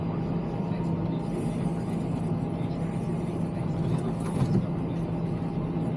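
A hay bale processor unrolls bales for feeding heifers and late-calving cows, giving a steady mechanical rumble with faint creaks and ratcheting throughout.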